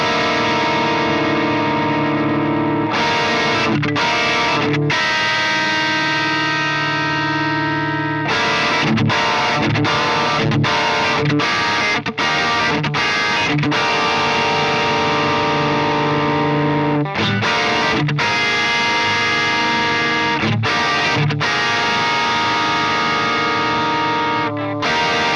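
An electric guitar runs through the enhancer block of a Fractal Audio Axe FX III with stereo width raised, giving heavily distorted, sustained chords with echo and chorus-like spread. They play loud and continuous, broken by short rhythmic stops.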